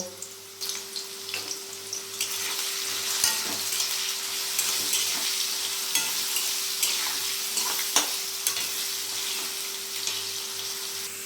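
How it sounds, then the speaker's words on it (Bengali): Cut potatoes fry in a pan with a little turmeric and salt, a steady, close sizzle running throughout with occasional stirring scrapes and clinks, no talking. "সামান্য পরিমাণে হলুদ ও লবণ দিয়ে ভালোভাবে ভেজে নেব।"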